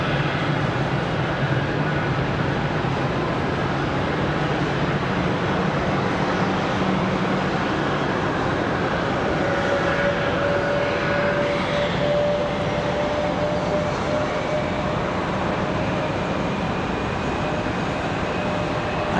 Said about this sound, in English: Nice, easy touchdown for the United Express